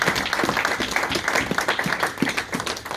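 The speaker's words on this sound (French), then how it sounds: "Est-ce qu'on peut acclamer très fort pour ça?" A church congregation applauding, a continuous crowd of hands clapping with uneven rhythm, moderately loud and close, filling the whole moment with faint voices beneath.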